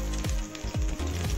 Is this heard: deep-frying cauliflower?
yes